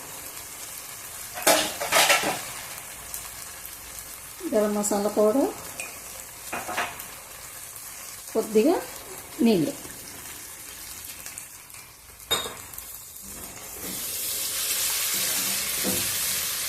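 Gongura chicken curry cooks in a pan over a medium flame, with spoon stirs and scrapes against the pan and a steady sizzle rising toward the end, while someone talks between the stirs.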